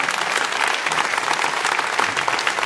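Audience applause at a political meeting against the Macron labour ordinances, a dense steady patter of many hands clapping throughout, close and loud with no talk over it.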